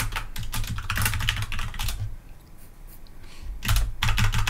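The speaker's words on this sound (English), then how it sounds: "I can type things in and erase it." Steady, fast typing on a computer keyboard, with close clicking keystrokes that break into a brief pause before resuming in quick bursts.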